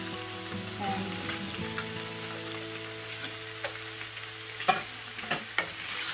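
Chicken almond with capsicums frying in a pan over low heat, a steady close sizzle with occasional scraping stirs and a few sharp utensil clicks toward the end.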